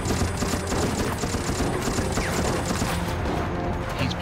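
Rapid gunfire fills a shooter battle in Resident Evil: Operation Raccoon City, a dense, continuous clatter of shots with mechanical rattles, loud and sustained throughout.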